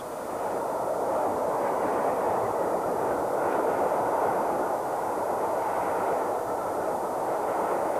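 Steam train running on the line to Carlisle in 1994, a steady broad rumble and roar from the moving train at middle distance, continuous for several seconds with no talk.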